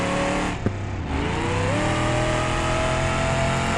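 A simulated car engine in BeamNG.drive revs hard and loud, its droning harmonics rising in pitch as it accelerates, with a brief dip early on before climbing again, and no talking.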